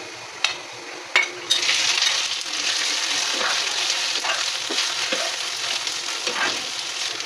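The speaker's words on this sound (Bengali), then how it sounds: "কাঠবাদাম, কাজু বাদাম সব একসাথে নিয়েছি, সব একবারে দিয়ে ভেজে নেব। এখন আমরা এই যে লাউটা দিয়ে দেব।" Bottle gourd lands in a hot pan with almonds and cashews for a village-style lau payesh. A few sharp clinks come first, then a loud, steady sizzle of frying that stays close, with light stirring scrapes.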